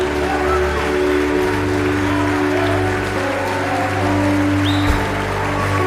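Audience applause during a sermon by preacher Deive Leonardo, a continuous wash of clapping from a large crowd under a steady low hum, with scattered voices and a brief sharp knock near the end.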